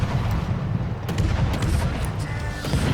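Naval guns of the destroyer Friesland firing in the game World of Warships, a rolling series of heavy booms and cracks under a constant low rumble, loud and close.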